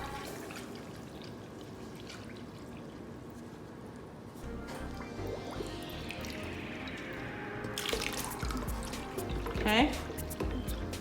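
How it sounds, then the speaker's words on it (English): Water runs into a bottle of wig dye, and the bottle is then shaken to mix, giving close trickling and sloshing that grows busier toward the end, with soft speech in the background. "let some water get in there, shake it up real good"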